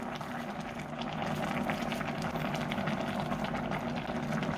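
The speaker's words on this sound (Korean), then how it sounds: "아주 잘 끓어서 잘 익어요." A spicy rockfish stew boils hard in a pot over high heat, giving a steady close bubbling roar that stays constant throughout.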